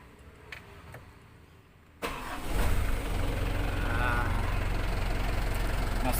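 A Mitsubishi Canter PS 136 medium bus diesel engine cranks and catches abruptly, then settles into a loud, steady, rumbling idle close by.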